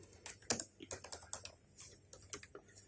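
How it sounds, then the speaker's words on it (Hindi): Fingers type on a computer keyboard, a quick irregular run of close, crisp key clicks with short pauses, entering text in a design program. "मैं कुछ टाइप कर रहा हूं"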